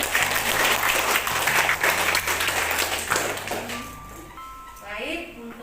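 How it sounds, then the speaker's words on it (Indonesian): Classroom applause for a student group after a nursing lecture presentation, a dense steady clatter of many hands that fades out, followed by a few faint electronic tones. "Tepuk tangan untuk kelompok."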